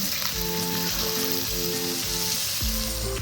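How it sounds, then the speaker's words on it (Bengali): Chopped onions with salt sizzle steadily in hot mustard oil for a katla fish curry, a continuous close frying hiss with no talk. "পেঁয়াজ খুব ভালো করে ভাজা হয়ে গেছে"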